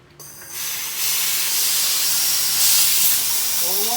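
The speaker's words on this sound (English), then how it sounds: "So let's walk out to the compressor here." An air compressor hisses loudly and steadily, rising quickly after a brief start and holding a broad rushing noise throughout, near and dominant.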